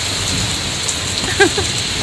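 Steady rain hisses throughout, close and even, with a couple of faint knocks partway through.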